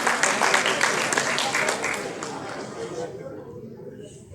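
Audience at a school Hindi debate competition applauds a speaker, a loud dense clapping that fades out over a few seconds into near quiet.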